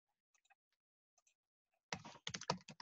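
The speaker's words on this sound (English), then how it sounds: "So let's actually type that in." Typing on a computer keyboard: a few faint, sparse key taps at first, then a loud quick burst of clustered keystrokes near the end, with no talking.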